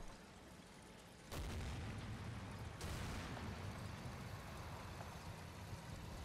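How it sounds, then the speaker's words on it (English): Two deep booming mortar explosions in the video game Combat Mission: Battle for Normandy land a second or so apart, followed by a sustained low rumble. "That's just our mortar rounds coming in."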